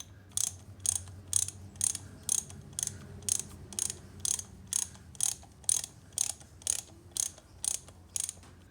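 A hand ratchet tightens an oil filter housing, clicking in a steady rhythm of about seventeen crisp, evenly spaced ticks, close and distinct over a quiet low background hum.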